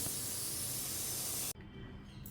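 A pressure cooker with half a kilo of mutton inside lets out a loud, continuous hiss of steam that cuts off abruptly, leaving quieter background noise.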